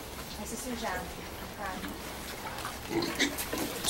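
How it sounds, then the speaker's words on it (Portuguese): Piglets grunt and squeal softly in short bursts close by, with faint background noise. "Os porquinhos, Samuel, pia."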